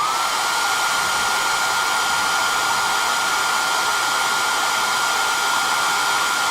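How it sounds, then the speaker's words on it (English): A hair dryer blows continuously and loudly up close, a steady rushing whoosh with no pauses. "if the hairdryer's too loud or annoying, let me know and I'll mute my mic"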